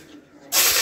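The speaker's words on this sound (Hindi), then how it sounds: "डाल रहे हैं प्याज" Onions dropped into hot oil in a kadhai burst into a sudden loud, broad sizzling hiss after a brief quieter moment, close and continuous.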